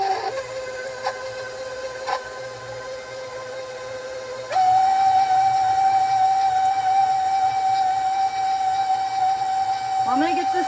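An old electric stand mixer beating cookie dough runs with a steady, loud motor whine that jumps in pitch and volume partway through, continuing without pause to the end.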